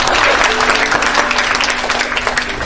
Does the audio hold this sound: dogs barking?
no